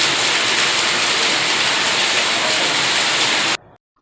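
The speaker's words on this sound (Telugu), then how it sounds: "ఆ రోజు నైట్ అయితే మామూలు వాన పడలేదండి బాబు." Heavy rain at night pouring down in a dense, loud, steady hiss that continues evenly, then cuts off abruptly into silence near the end.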